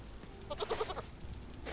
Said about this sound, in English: this is not a male goat like I'd wanted, but I'm fine with having extra female goats